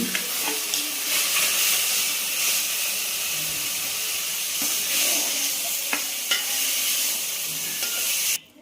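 Fenugreek (methi) leaves frying in oil in a pan, a steady close sizzle with hissing steam and occasional scrapes and stirring clinks throughout, no voices, and a sudden cut at the end.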